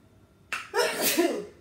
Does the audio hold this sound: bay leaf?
no